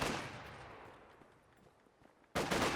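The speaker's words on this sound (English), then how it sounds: "Oh, the Grenadiers take a nasty volley." A gunfire volley strikes Grenadiers in a strategy video game. A burst of shots decays away, and after a brief lull a second loud crackling salvo begins near the end.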